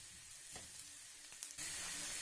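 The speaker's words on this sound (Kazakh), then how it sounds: "Қызып тұрған майдың үстіне ұсақтап туралған пиязымызды және болгар бұрышын қосып," Chopped onion and bell pepper are tipped into hot oil for shakshuka and sizzle softly in the pan, with faint stirring scrapes before the frying hiss swells louder and steadies.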